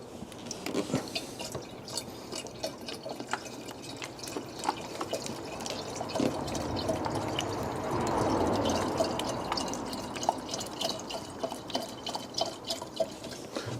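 Water trickles and splashes as it is poured into a car's coolant system, with irregular drips and gurgles and a brief fuller rush of filling midway, close and fairly soft.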